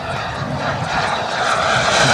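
A fast RC model F-104 Starfighter jet roars steadily overhead at a model jet show, a loud continuous whooshing engine noise that swells slightly toward the end.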